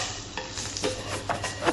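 Garlic stirred as it fries in a pan for a sausage noodle dish: a close hiss with a few quick scraping strokes of a utensil, brief and without speech.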